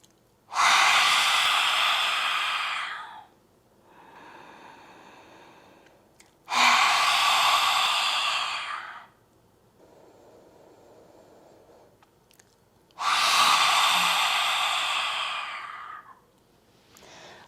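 Three long, forceful open-mouthed exhalations in a yoga lion's breath, each a loud breathy roar lasting a few seconds, separated by quieter inhalations and pauses.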